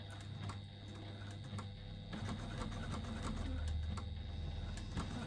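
Sewing machine stitching a tight curve with a size 14 needle, a steady fast mechanical whir with a low hum running through, close and continuous.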